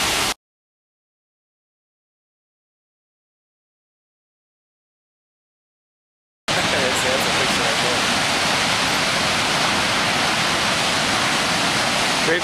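Waterfall in the Buffalo, New York area on a dreary day, a dense, steady roar of falling water that starts abruptly after a long stretch of silence and continues loud and unbroken.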